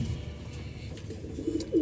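A pair of Sirazi Lahori pigeons coo softly and close by, low throaty calls rising a little louder near the end over a quiet background.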